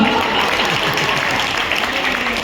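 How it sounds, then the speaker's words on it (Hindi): Audience applause at a Hindi comic poetry recital, a dense steady wash of many hands clapping at once that fills the whole moment without a break. "तालियां बजाने वाले दिव्य हाथों को प्रणाम"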